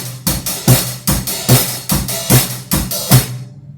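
Snare drum hit with a drumstick, half a dozen sharp, punchy strokes with a low body tone, spaced in a steady pulse, close-miked and loud with no voices.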